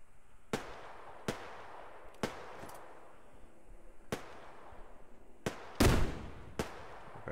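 Grenade blasts in the Survarium shooter game come as sharp, separate bangs at irregular intervals, several faint and distant with one louder, closer burst near the end.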